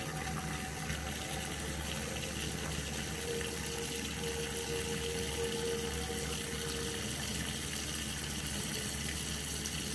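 Water runs from a faucet during handwashing, a steady low hiss of flowing water that keeps an even level throughout the clip, with no speech.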